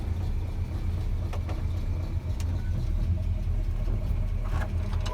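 A truck engine idles along in granny low gear at about 500 RPM with no throttle, a low steady rumble with faint clatter from the cab.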